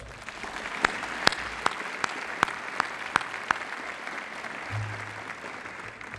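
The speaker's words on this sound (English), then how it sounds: "Please give them a round of applause" Audience applause at a community college State of the College event, a steady wash of clapping with a few sharp, distinct claps standing out, moderately distant and sustained for several seconds.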